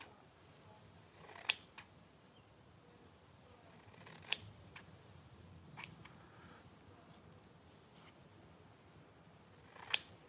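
Scissors cut out yellow quilt fabric in a few sharp, distinct snips spaced seconds apart over quiet room tone, each a crisp close click.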